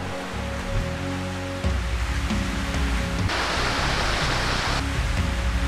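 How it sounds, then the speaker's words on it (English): Flowing water ambience in the video game Halo 2, a steady wash of rushing water with a low hum under it, which grows louder and brighter partway through. "The water sound is also nicer in the new stuff than the old stuff here."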